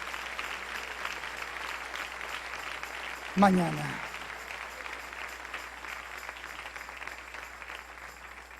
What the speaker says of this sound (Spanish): Dele un aplauso al Rey en esta preciosa y hermosa